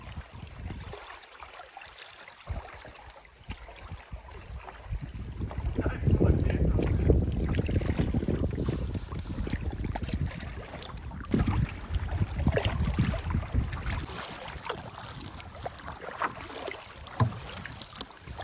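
A canoe glides across Pemadumcook Lake in the Maine wilderness, with soft repeated paddle strokes and water swishes over steady wind noise, close to the microphone.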